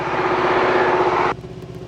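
A light aircraft's piston engine drones steadily on landing approach, loud and close with a buzzing propeller tone, then abruptly drops to a much quieter idle hum.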